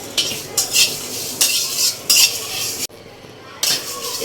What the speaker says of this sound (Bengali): এখন আমি মশলাটা ভেজে নেব।